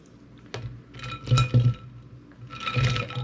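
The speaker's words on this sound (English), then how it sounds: "We're putting them in ice water." Pressure-cooked eggs are dropped into a bowl of ice water, giving several close clinks and splashes followed by the rattle of shifting ice.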